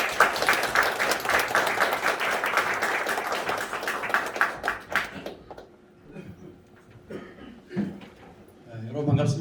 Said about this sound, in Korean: 강사님을 박수로 모시도록 하겠습니다.